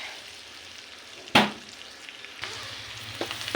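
Butter and garlic sizzle steadily in a frying pan while cooking buttered potato marbles, with a sharp crackling burst partway through as more goes into the hot fat, then continued close frying hiss with small pops.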